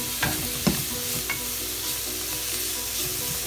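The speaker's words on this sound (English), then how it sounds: "And then add the mushrooms and mix the mushrooms in with everything that's already in" Mushrooms stirred into red curry paste in a hot pan, a constant sizzle with a couple of quick spatula scrapes near the start, close and without talk.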